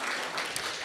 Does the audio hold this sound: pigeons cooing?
no